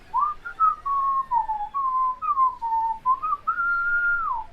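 A person whistles a bright, wandering tune of several sustained and gliding notes, clear and close with no talk, imitating a cheerful lizard character in a fantasy voyage setting.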